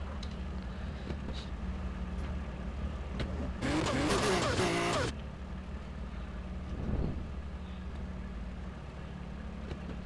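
A car drives in the Hitman video game, its engine a steady low rumble throughout, with a short loud burst of noise cutting in midway and a smaller swell near the end.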